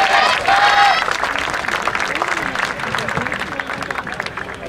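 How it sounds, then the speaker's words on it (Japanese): A festival crowd at the Kamisu Maicchage Festival claps and cheers for a yosakoi dance team, a whistle or high call at the start, then sustained clapping and crowd noise with babble underneath. "ご声援お手拍子よろしくお願いします"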